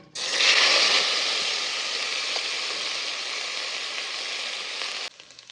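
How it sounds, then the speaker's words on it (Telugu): Mutton pieces frying in a few tablespoons of oil for biryani, a loud steady sizzle and hiss that starts abruptly, holds for about five seconds, then cuts off to faint clicks. "కొంచెం ఆయిల్ వేసాను, వేసి పీసెస్ అన్నింటిని బాగా ఫ్రై చేశాను"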